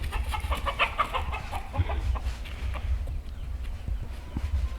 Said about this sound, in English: He is a white and true blue cockerel. I guess he's a rooster now.